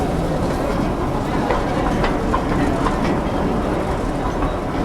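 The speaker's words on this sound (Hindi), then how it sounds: "ये लकड़ी की ट्रेन जो कि 77 साल से चल रही है और बिल्कुल रोड के बराबर में चल रही है।" Wooden Bhakra Nangal train on the Bhakra railway rolling along its rails beside a road, giving a steady, loud rumble with rhythmic clatter heard from on board, and no break in the noise.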